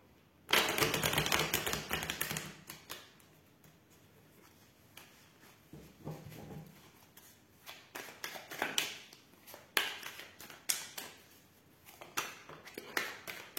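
Tarot cards being shuffled by hand, with bursts of rapid riffling and soft card taps separated by quieter pauses, close and fairly faint, with no talking.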